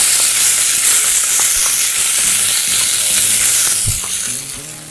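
Sliced onions and a spoonful of ginger-garlic paste fry in a hot pan for a soy chunks curry, a loud, continuous close sizzle with occasional stirring scrapes and no talking.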